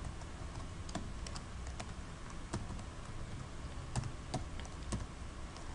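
Light, quick keystrokes on a computer keyboard while C programming code is entered, an irregular patter of soft clicks against a steady hiss.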